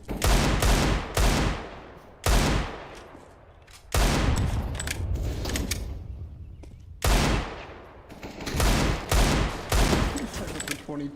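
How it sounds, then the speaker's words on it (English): Video game gunfire erupts in dense bursts of automatic fire and fusillades after a flashbang is deployed, loud and close, with several sharp volleys separated by short lulls. "Deploying flashbang."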